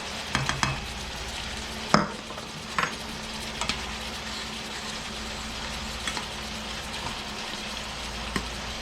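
A spoon steadily stirs instant mashed potatoes into a cottage pie filling, giving a continuous wet, sizzly scraping texture with a few sharper knocks against the pan, close and moderately loud, with no speech.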